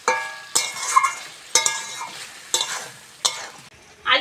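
Potatoes stir-fried in a pan, with a spatula scraping through them every second or so over a steady low sizzle, close and clear, no voices.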